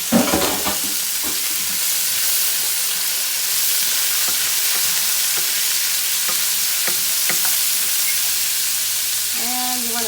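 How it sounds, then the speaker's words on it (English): Green beans sauteing with onions and bacon in a hot pan, a loud, steady hissing sizzle with occasional stirring clicks, close up, and a brief voice near the end. "So what I'm doing here is sort of like sauteing this stuff, so to get all the flavor from the onions and the bacon."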